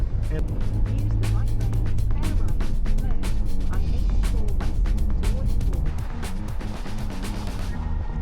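High-mileage four-cylinder Toyota 4Runner held near 4,000 RPM in third gear climbing a steep off-road incline, a strained steady engine drone mixed with heavy rattling and clattering knocks throughout, with voices talking over it.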